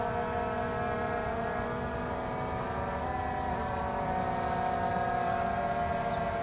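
A CX-20 quadcopter drone climbs at high throttle, its motors producing a steady, loud buzzing whine with layered tonal hum that wavers slightly midway, continuous with no talking.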